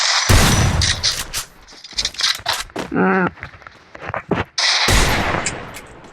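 Bursts of gunfire crack from the mobile shooter game Free Fire, firing in short clustered volleys with pauses between, while someone talks over the gaps.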